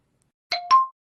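Two quick electronic tones sound one after the other as a phone number is dialed in a Korean radio drama, brief and clear against silence.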